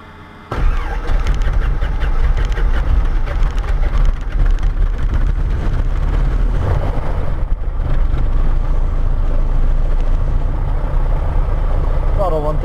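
A Diamond DA20 light aircraft engine cranks and catches, then settles into a loud, steady propeller-engine rumble that runs close and continuous, with a voice talking over it.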